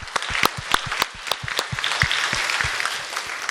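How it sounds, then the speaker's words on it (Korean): A church congregation applauds during a dedication anniversary thanksgiving service, with scattered loud individual claps standing out over a softer bed of many hands clapping. "우리 하나님께 감사하는 영광의 박수를 올려드립시다"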